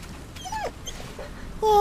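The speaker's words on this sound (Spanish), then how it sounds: "Oh, perrito, me encantan los perritos." A dog in the video game The Medium whimpers in short, high whining cries, close and fairly clear, ending in a sharper rising whine.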